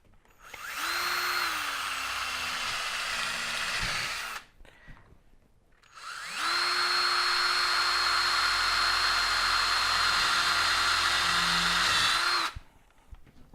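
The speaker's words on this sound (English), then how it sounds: "We go ahead and pre-drill the corner." A power drill pre-drills the corner of a countertop form. Two loud sustained whirring runs come up close, the first about four seconds and the second about six, separated by a short pause, with no talking.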